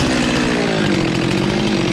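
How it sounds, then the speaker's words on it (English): Stihl MS 400c chainsaw running on a full tank of gasoline, a loud, steady, close-up engine roar that holds without pause for the whole stretch, with no talk over it. "Well, we'll see how it sounds with a full tank. Maybe this is one of those saws that needs gasoline to work right."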